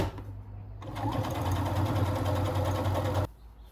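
A sewing machine runs steadily for about two and a half seconds, stitching a cotton tissue box cover with a fast, even mechanical whir. It starts and stops abruptly, close and fairly loud, with no talking.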